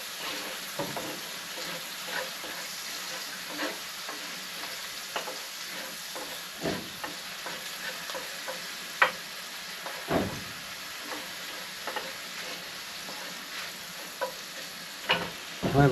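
Slippery jack mushrooms fry in a pan with a steady hiss and sizzle. Occasional stirring scrapes and knocks sound through it, and nobody speaks.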